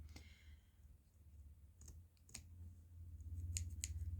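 Scissors trimming a paper book page, a few faint crisp snips and clicks spread across a quiet room background.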